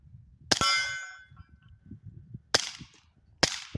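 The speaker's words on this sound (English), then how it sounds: "we got the Taurus G3 Tactical set up with the silencer code Octane 9. Let's see how it performs" Three sharp suppressed shots from a Taurus G3 Tactical pistol fitted with an Octane 9 silencer at a shooting range, each a crisp metallic crack with a short ring, spaced irregularly over low background noise.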